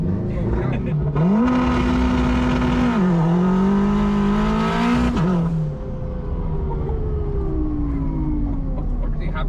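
An all-wheel-drive Honda with nitrous and anti-lag makes an 8000 RPM launch: a loud, close engine revs high, its pitch climbing and dipping in sharp surges, then trails off into a long, falling whine.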